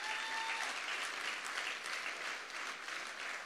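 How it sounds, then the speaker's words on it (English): An audience claps together during a church service, a steady, dense wash of applause that holds at an even level from start to finish. "Don't keep clapping, huh?"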